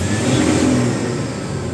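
A car engine revs hard after an ECU remap on a Euro 4 vehicle, a loud, sustained, close-range whirring climb that holds steady through the short stretch without any talking.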